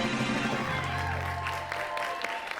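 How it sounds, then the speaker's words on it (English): Mission control staff applauding in the space-program game Mars Horizon after a successful animal orbit mission, a brief, soft burst of clapping under a low hum. "Our mission control is applauding our work for the animal orbit."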